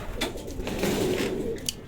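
A racing pigeon coos softly during derby race clocking, a low murmuring call close by amid a faint rustle and light background noise.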